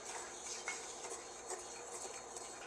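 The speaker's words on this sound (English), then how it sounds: "keep stirring until the color changes" Flour roux being stirred in a thick-bottomed pan for a Canadian gumbo: faint, continuous scraping with light, irregular ticks from the utensil against the pan, quiet and close, with no talking.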